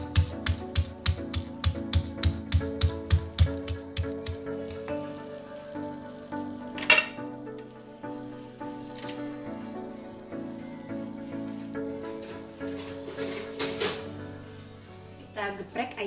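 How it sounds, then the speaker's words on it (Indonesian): Fried chicken pieces smashed one at a time for ayam geprek with green chili sambal, a run of sharp rhythmic thuds at first, then scattered knocks and clatter under steady talk. "Kita geprek ayamnya satu persatu ya ibu-ibu."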